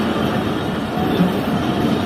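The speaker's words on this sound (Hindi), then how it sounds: "ट्रेन तकरीबन 2 मिनट रुकने के बाद टंडोवाला यार रेलवे स्टेशन से निकल रही है।" A passenger train pulls out of Tando Allahyar railway station in Pakistan, a steady loud rumble of wheels and carriages heard from on board, without distinct clacks.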